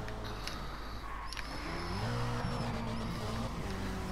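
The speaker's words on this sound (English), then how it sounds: "Oh, that engine noise then." A car engine in a racing video game revs and climbs in pitch over steady road rumble, loud and close, with brief mechanical clicks early on.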